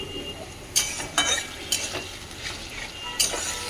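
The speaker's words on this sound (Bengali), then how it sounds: "টমেটোটা ভালো করে নাড়াচাড়া করে তারপরে মশলাটা দিয়ে দেবো" Tomatoes frying in a pan are stirred with a utensil, giving several sharp scraping clinks against the metal over a soft, steady sizzle.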